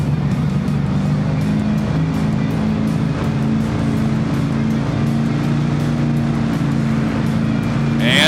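Monster truck engines, a big block Chevrolet and a 426 Hemi Dodge, idle and rumble loudly at the start line of an indoor arena event, a steady deep droning roar with little variation throughout.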